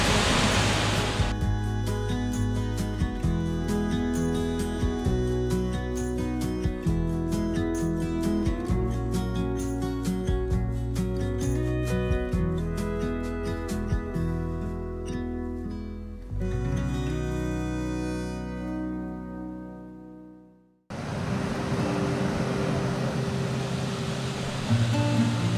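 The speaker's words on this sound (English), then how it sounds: "we're at the next waterfall on the trail" A waterfall on a woodland trail gives a broad, steady rush of falling water, first heard under tonal background music that fades out, then alone and loud near the end.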